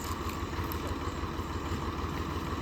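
A vehicle engine runs close by in a grove, a steady low chugging drone that holds even and fairly quiet throughout without other sounds.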